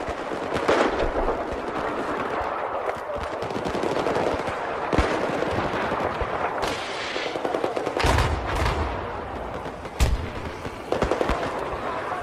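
Gunfire in Battlefield 4 crackles in rapid bursts and sharp single shots, with loud booming impacts scattered throughout, a dense, chaotic battle din with occasional faint voices beneath.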